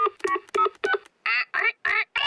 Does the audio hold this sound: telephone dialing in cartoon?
yes